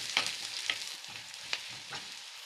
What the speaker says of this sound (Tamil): நல்லா கொஞ்சம் வதக்கி விட்டுருவாங்க.